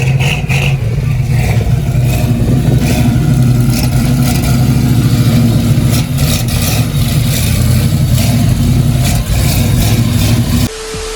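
A dusty old Ford Mustang engine runs loud and close, idling and revving in surges with a rough rumbling tone before cutting off abruptly near the end; no one speaks.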